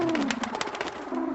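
A prize pigeon coos in a cartoon, a short run of soft, throaty, rhythmic coos, close and clear, with a falling tonal murmur underneath.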